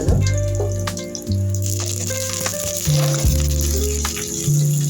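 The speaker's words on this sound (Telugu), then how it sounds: "కరివేపాకు బాగా వేడైనంత వరకు ఫ్రై చేస్తాను" Crushed garlic and curry leaves frying in hot oil, a steady crackling sizzle with intermittent pops, heard over a recurring low background hum.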